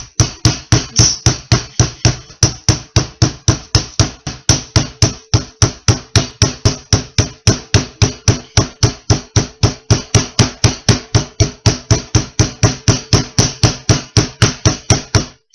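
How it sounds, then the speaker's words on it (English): A mallet pounds meat wrapped in plastic on a board, striking in a fast, steady rhythm of sharp, loud thuds that keep going without a break for the whole stretch. No one speaks. "I'm going to not talk and pound at the same time, but we wrapped it in plastic"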